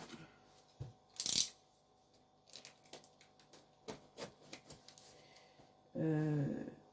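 Packaging of a diamond painting canvas being opened: a sharp plastic crinkle, scattered rustles, taps and small handling noises, then a louder burst of rubbing at the end, all close by.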